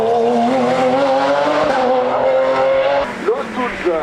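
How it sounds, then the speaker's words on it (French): A Renault RS race car accelerates hard away from the start at a hill climb in Bagnols Sabrans, its engine note rising steadily and loud, with a shift around the three-second mark and French commentary running over it. "Jean-François Ganva vient de s'élancer avec la Renault RS 0."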